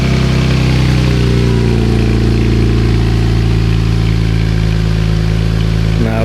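Infiniti Q60 fitted with a new aftermarket exhaust idles at close range, a loud, steady low drone with a constant throb and no revving.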